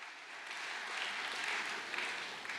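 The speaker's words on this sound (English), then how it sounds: "Another round of applause for" Guests at a welcome dinner applauding, a fairly faint, steady patter of many hands clapping from across the room, brief and unbroken.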